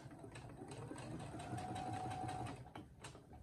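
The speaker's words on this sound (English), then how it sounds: "Now I'm back stitching all the way to the end." A sewing machine backstitches along a tote bag seam, a faint, steady mechanical whirring and rapid needle chatter for a few seconds, then slowing to a stop.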